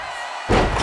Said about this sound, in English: Crushing impact on a splash.